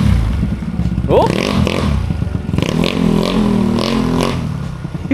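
A Yamaha Mio Sporty scooter with a choked exhaust pipe revs steadily and loudly up close, its engine note rising and falling over a constant mechanical clatter, while someone talks over it.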